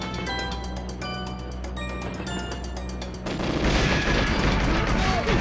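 Rapid bursts of automatic gunfire in the N64 game GoldenEye 007, in a regular, evenly spaced rhythm, followed by a louder, denser barrage of shots and crashing noise.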